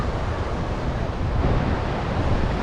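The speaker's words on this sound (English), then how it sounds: "Now we at the beach." Surf washes steadily onto a beach, loud and close, with wind buffeting the microphone throughout and no pause in the rushing noise.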